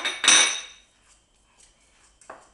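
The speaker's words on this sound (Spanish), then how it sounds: "ayudándonos también de, del tenedor tenemos que trabajar la margarina hasta que quede hasta que quede bastante disuelta" A fork works vegetable margarine in a bowl, giving a bright metallic clink, then quiet scraping and a second, softer clink against the bowl.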